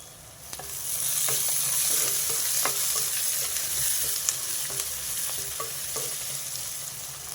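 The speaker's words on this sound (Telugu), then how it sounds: "ఇప్పుడు కొంచెం కరివేపాకు వేసుకున్నా." Onions and curry leaves fry in a pan for a potato curry, giving a steady sizzle with scattered clinks of stirring and no voices.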